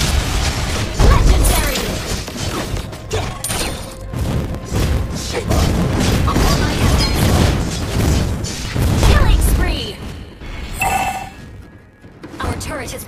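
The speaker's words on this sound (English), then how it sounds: "Your team destroyed a turret." A turret is destroyed during a Mobile Legends match: dense booming explosions and mechanical crunches roll on continuously and loudly, mixed with bright electronic game effects and an announcer-style voice.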